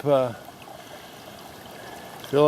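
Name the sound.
slow stream of water filling a water filter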